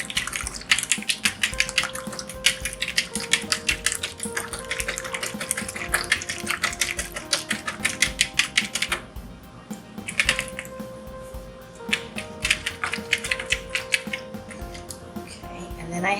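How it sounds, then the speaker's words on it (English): One egg is whisked in a bowl with a fork, giving rapid, evenly spaced clicking strokes that run steadily, pause briefly, then resume, all close by and fairly loud. "So the first thing I want to do is beat the egg."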